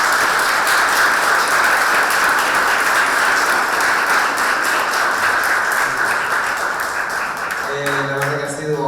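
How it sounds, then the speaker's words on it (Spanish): A conference audience at an academic research meeting in Patagonia applauds two speakers, with dense, loud, sustained clapping throughout that fades at the end as a voice begins to talk. "les damos un aplauso"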